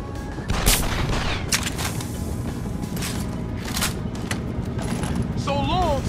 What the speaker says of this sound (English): Fucking gunshot!